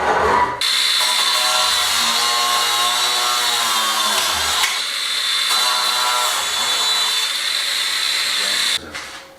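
An angle grinder cuts metal for welding on an extension to a South American parrilla grill, a loud continuous high-pitched whine running steadily for several seconds and stopping near the end.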